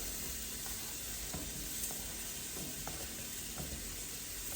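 Celery, carrots and onion sweat in a hot pan for chicken and dumplings, giving a steady, close sizzle that stays even throughout, with faint crackles and no voices.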